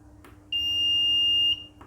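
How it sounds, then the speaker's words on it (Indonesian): A buzzer on an embedded microcontroller board gives one steady, piercing electronic tone for about a second over a low background hum, then cuts off. "maka buzzer akan menyala"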